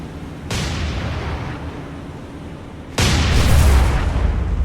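A ship explodes in the War on the Sea naval combat game, with two heavy, loud blasts a few seconds apart, each followed by a sustained rumbling roar, alone without talk.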